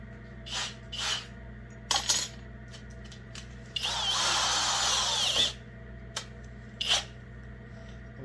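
A power drill whirs in a sustained high-pitched burst for about two seconds while drilling into a metal drain plug on a Suzuki RM125 motorcycle, framed by scattered clicks and clanks of metal being handled nearby.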